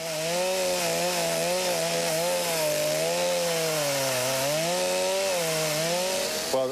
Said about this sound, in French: C'est dingue de s'attaquer à une ruche d'abeilles en colère avec une tronçonneuse